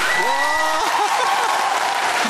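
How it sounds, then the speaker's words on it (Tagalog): A concert audience applauds loudly and continuously after a choir performance in Russia, with voices calling out over the dense clapping. "hindi magkamayaw ang palakpakan, pagsigaw ng mga bravo at iba-iba pang pahayag ng kasiyahan at paghanga"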